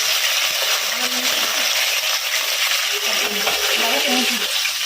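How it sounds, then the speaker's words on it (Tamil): Fenugreek seeds, fennel, curry leaves and small shallots sautéing in hot oil, a steady loud sizzle filling the pan with faint stirring scrapes underneath. "அப்புறமா வதக்கணும் கொஞ்சம் நல்லா."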